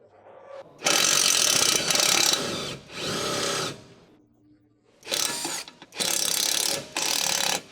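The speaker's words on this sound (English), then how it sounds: "15mm socket on the impact wrench. Remove that bolt." An impact wrench with a 15mm socket hammers off a lower rear shock absorber bolt on a Ford F-series truck, in loud rattling bursts of about a second each separated by short pauses.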